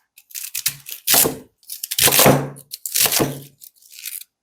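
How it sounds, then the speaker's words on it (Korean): A knife chops chicken into bite-size pieces on a cutting board for dakgalbi, with several crisp, close cuts and thunks arriving in irregular clusters, with no talk. "자, 한 입 크기로 잘라주면 되거든요."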